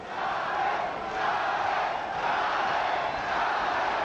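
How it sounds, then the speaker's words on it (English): A boxing arena crowd chants for Julio Cesar Chavez in a sustained, loud, rhythmic roar with gentle surges, the mass of voices filling the clip. "Crowd chanting for Julio."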